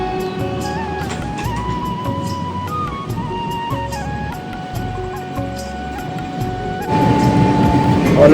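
An Indian Railways passenger train heading to Purulia in the rain rolls along on its rails, giving a steady, continuous rumble with no talk that swells slightly louder near the end.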